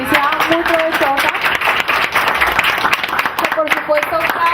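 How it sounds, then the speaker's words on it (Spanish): A conference audience applauds their speaker Mauricio with steady, dense clapping that runs for several seconds, while brief musical tones sound underneath. "quiero pedir nuevamente un aplauso a Mauricio"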